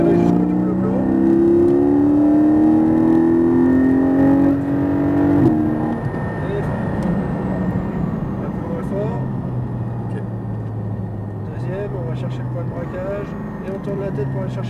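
A Porsche Cayman GT4 accelerates on a race track. The engine drone rises steadily in pitch, drops back, and climbs again, with an instructor's voice speaking over it from inside the car.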